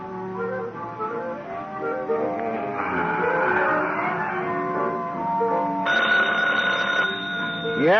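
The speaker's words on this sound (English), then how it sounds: "Oh, phone, Gino." An old-time radio drama telephone bell rings in a police squad room, a steady repeating ring carrying over background music and room tone, fairly loud and close.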